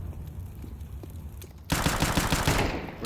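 Rapid automatic gunfire erupts in an esports shooter match from an ESEA Main league game as an AK rifle is picked up: a quiet stretch, then a loud, dense barrage of overlapping shots that keeps going to the end.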